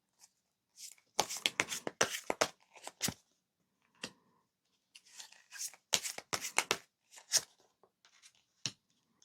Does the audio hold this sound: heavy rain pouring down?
no